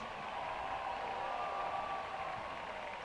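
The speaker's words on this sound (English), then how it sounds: "let's give a big round of applause for all of our senior band members" A crowd at a school football game applauds senior band members, a steady broadband wash of clapping at moderate distance that runs unbroken for a few seconds.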